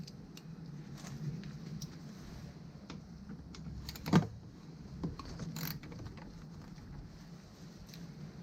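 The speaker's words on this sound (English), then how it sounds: "This is one of the screws that I need to undo, and then the equivalent on the other side." Tool clicks and ratcheting as screws come undone on a BMW F800GT motorcycle in a garage, quiet close mechanical ticks with one sharper clack midway, over low steady room hum.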